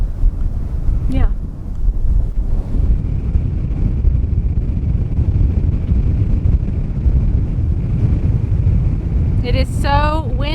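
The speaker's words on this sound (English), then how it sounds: "It is so windy." Strong wind roars and buffets the microphone continuously, with a brief voice-like chirp early and a short burst of high chatter near the end.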